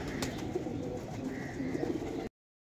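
Pigeons in a cage coo in low, soft repeated phrases amid a steady murmur of birds nearby, with no speech.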